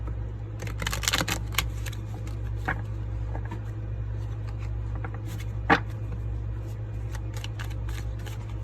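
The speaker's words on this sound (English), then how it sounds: "let me shuffle again, guys, and see if that works here" Soft, dense rustling and papery flicks of playing cards being shuffled close by, with a low steady hum underneath and one sharp tap near the end.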